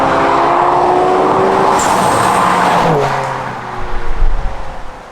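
A Nissan Skyline R32 GTR driving, its engine droning steadily with shifting pitch as it pulls along, then easing off before a rougher, louder surge of revs near the end; the sound is close and prominent.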